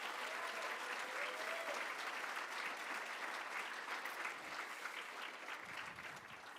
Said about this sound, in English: Could we show them some love with a big round of applause and welcome?